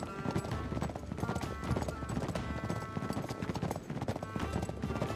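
Horses trotting in Uncharted 3: Drake's Deception, a steady run of clip-clop hoofbeats with an occasional whinny, heard over continuous game sounds, music and some talk.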